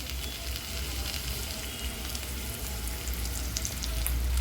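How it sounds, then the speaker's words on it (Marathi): Onion fries in oil on a griddle for a Marathi chickpea-greens dish, giving a loud, continuous close sizzle with faint stirring scrapes and no talk. "तेल टाकलेलं आपण कांदा भाजताना"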